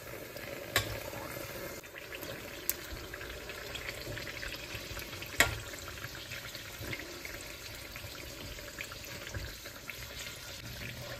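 Mangalore buns frying in hot oil, a steady soft bubbling sizzle running throughout with a few sharp clicks, fairly quiet and continuous.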